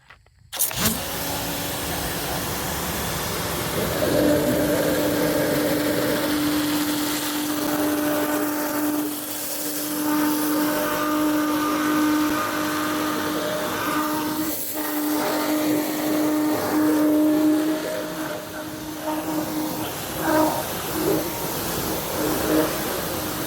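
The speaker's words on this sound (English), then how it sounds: "Now we're going to try this turbo nozzle. We're going to do the tracks." An electric pressure washer with a turbo nozzle blasts dirt out of car tracks during auto detailing, its loud, steady motor drone and rushing spray running continuously up close with only slight shifts in pitch.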